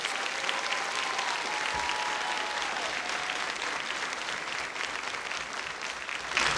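A large audience at a high school senior awards night applauds graduates, a steady dense wash of many hands clapping at even loudness, with no voices heard.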